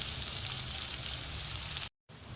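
Onions frying in a pan over medium heat for konaganti curry, giving a steady, even sizzle at close range that briefly cuts out near the end, with no talking.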